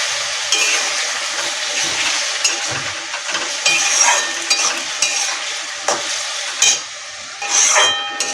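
Loud, steady sizzling of soy, tomato and chili sauces frying in a pan for chili chicken, with intermittent scraping stir strokes and clatters close by, no talk.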